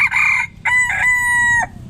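A rooster crows loudly and close by, one full cock-a-doodle-doo with a clipped opening and a long held final note, no voices.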